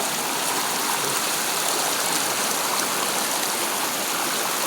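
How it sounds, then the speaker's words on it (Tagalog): Steady rushing water from a flowing river stream fills the scene, close and continuous, with no voices. "Dito yung sa may ilog."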